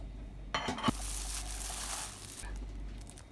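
Chopped kale leaves mixed with salt and shredded coconut in a pan: a few quick scraping, crinkly stirs up front, then a soft steady rustle, faint and close, with no talk.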